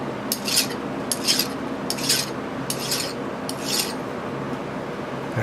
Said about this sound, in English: I'm just rolling a file around it to take that little bit of a burr off.